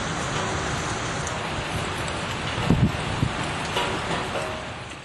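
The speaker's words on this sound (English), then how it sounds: "In Nantes, more than 100 millimeters of rain fell in just a few hours." Heavy downpour in Nantes, France, a dense continuous hiss of falling rain with a few faint low thumps, moderately loud and steady throughout.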